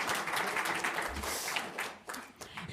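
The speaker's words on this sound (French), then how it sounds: "Oui, applaudissez un petit peu là." A small group of listeners applauds with brief, loose, moderately loud clapping that thins out and breaks into scattered claps near the end.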